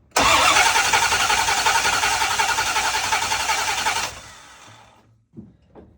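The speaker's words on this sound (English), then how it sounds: "Let's keep cranking her." A 1979 Chevrolet El Camino engine cranks loudly and steadily on the starter for about four seconds without catching, then cuts off, followed by a few faint clicks and low knocks.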